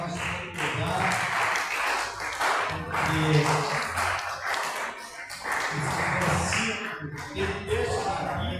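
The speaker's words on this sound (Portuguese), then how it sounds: "Se os irmãos quiserem louvar ao Senhor com as palmas, pode louvar" Worship congregation clapping hands together in church, a steady rhythmic patter of palms running throughout alongside music and singing voices.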